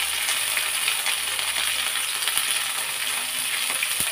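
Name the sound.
frying onion with spice pastes for mutton curry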